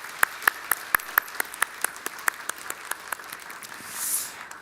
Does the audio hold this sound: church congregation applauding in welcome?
yes